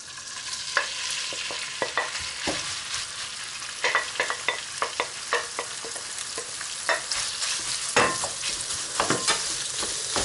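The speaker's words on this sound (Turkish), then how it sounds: "kalamar bacaklarını kavuracağız arkadaşlar. Zeytinyağında." Squid legs sautéing in olive oil for squid kokoreç, a bright, close sizzle punctuated by many quick spatula taps and scrapes against the pan, with no talking.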